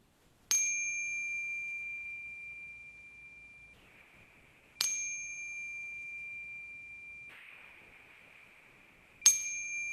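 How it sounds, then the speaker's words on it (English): A meditation chime rings three times at even, spaced intervals, each bright strike sustaining and slowly fading into quiet. "you'll hear 3 rings of the chime that will bring us back in your own time."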